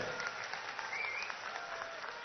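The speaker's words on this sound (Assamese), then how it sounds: "পীযুষ হাজৰিকাৰ কাৰণে এটা দীঘলীয়া হাত তালি" A crowd at a political speech in Jagiroad applauds Piyush Hazarika, giving steady, even clapping that holds at moderate loudness throughout with no clear break.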